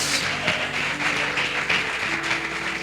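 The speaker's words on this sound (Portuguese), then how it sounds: "Você pode aplaudir e glorificar a Deus por isso." Steady applause from a church congregation, a dense wash of clapping with a held musical tone underneath, continuous and fairly loud throughout.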